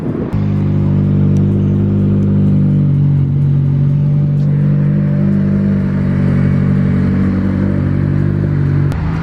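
A tuned Toyota Corolla pulls away on a test drive, its engine giving a loud, close, steady hum that climbs slightly in pitch as it drives off, with light clatter and no talking.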